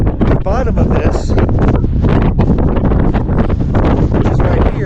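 Strong gusting wind buffets the microphone on a mountain ridge at about 11,000 feet, a loud continuous roar throughout, with a voice talking underneath it.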